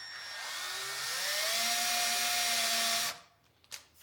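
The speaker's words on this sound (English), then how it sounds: "Switch back to the big drill, or the tap drill." A big drill bit bores a center mark into a metal plate, a steady whining drill tone that rises in pitch, then cuts off abruptly, leaving faint clicks and knocks.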